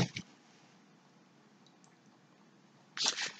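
Water squeezed out of a wet paintbrush by hand makes a brief soft squish at the start and a louder wet squelching burst near the end, with near-silence between.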